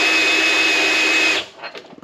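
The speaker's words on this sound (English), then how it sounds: "instead of using the crank handle, I got a drill adapter" A power drill with an adapter turns a milling table's axis crank, whirring at high speed for over a second, then winds down and stops, leaving a few faint clicks.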